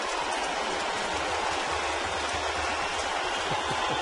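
Steady, dense rain pours down over a baseball stadium in New York as a constant hiss filling the whole stretch, with no talk above it.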